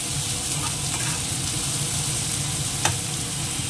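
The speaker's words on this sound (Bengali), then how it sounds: "তেলটা গরম হয়ে গেছে, দিয়ে দেবো পেঁয়াজ কেটে নেব" Onions fry in hot oil as they are stirred in a pan, a dense, steady close-up sizzle with faint scraping and one brief clink near the end.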